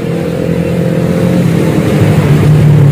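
A motorcycle engine runs close and loud, holding a steady throaty drone that swells slightly as it is revved toward the end, with no voices.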